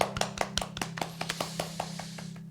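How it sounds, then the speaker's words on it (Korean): A few people clap after a prayer during a Chuseok holiday family worship at home, sparse separate handclaps in an uneven rhythm, close but fairly quiet. "주님께 영광의 박수 올려드리겠습니다."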